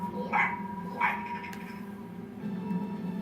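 Robot dog Goddard in the Jimmy Neutron video game gives two short electronic bark-like yelps close together, followed by a low steady hum with no talking.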